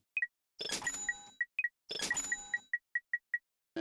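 Ammo is bought in Ratchet & Clank 2: Going Commando, a rapid run of bright chiming purchase dings and cash-register jingles in two quick bursts, loud and close with no talk.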